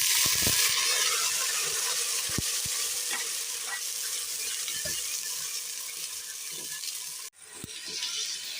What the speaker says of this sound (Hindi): सबसे पहले हम अदरक लहसुन की भुनाई करेंगे।